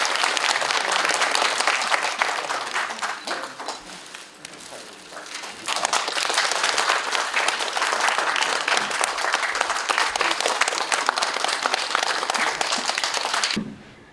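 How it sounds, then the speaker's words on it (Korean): Loud, sustained applause from the audience at a Korean arts and culture association award ceremony fills the room with dense clapping, dipping briefly midway before swelling again and stopping abruptly at the end. "박수로 축하해 주시죠."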